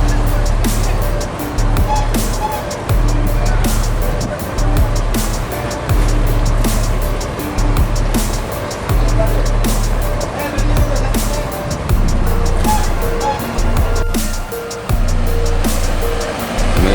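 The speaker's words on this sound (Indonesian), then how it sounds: "Medium bus meninggalkan Terminal Bares Solo." Medium bus of Gumarang Jaya pulling out of Terminal Bares Solo toward Jakarta, with a deep droning engine that rises and dips in repeated surges of acceleration, heavy low rumble and road noise, fairly loud throughout.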